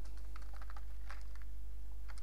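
Light typing on a computer keyboard produces a quick run of soft, close keystrokes over a steady low hum, fading out briefly before a final tap.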